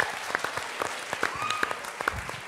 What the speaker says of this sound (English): Round of applause, I think.